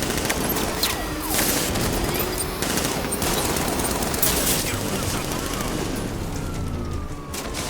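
Sustained automatic gunfire in the video game Batman: Arkham Knight, a dense continuous rattle of rapid shots with a siren-like whine running beneath, loud and unbroken throughout.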